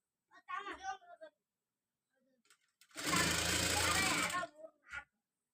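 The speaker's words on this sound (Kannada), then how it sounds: "ಇದು ಬ್ಯಾಕಿಂದು ಮೊದಲು ನೀಟಾಗಿ ಸ್ಟಿಚ್ ಮಾಡ್ಕೊಳ್ಳೋಣ" A sewing machine stitches the back piece of a blouse in one loud, steady run of about a second and a half, with someone speaking briefly before and after.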